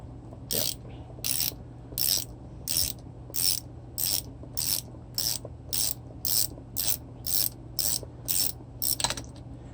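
A ratchet wrench loosens the generator rectifier on an e-bike with a steady series of about fourteen crisp, even clicking bursts, close and clear over a faint hum, with no talking.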